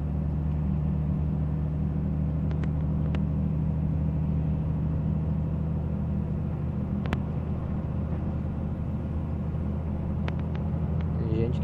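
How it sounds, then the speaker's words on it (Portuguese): A truck runs down the steep Serra de Garuva mountain highway in a heavy, steady low engine drone and road rumble, heard from inside the cab with faint clicks and ticks over the continuous hum. "essa é a parte que o caminhão mais embala"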